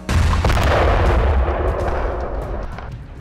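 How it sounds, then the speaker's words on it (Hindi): A rocket strike destroys a tank during combat in Khan Younis, Gaza: a loud, close blast fills the opening, with heavy low rumble that slowly fades over a few seconds, and no voices. "देखिए कैसे रॉकेट से एक टैंक को उड़ा दिया"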